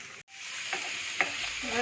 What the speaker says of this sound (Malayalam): പിന്നെ കുറച്ച് ചെറിയ ഉള്ളി അരിഞ്ഞിട്ടുണ്ട്, ഒരു 20-25 എണ്ണം. അതുകൊണ്ട് നമുക്ക് ഇതിലേക്ക് ചേർക്കാം.